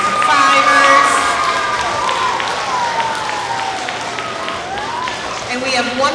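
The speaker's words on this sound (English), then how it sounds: "one more big round of applause for our award winners, for our Strive for Fivers" Elementary school assembly crowd applauding and cheering for award winners, loud sustained clapping with children's shouts and a rising whoop, while an adult speaks over it.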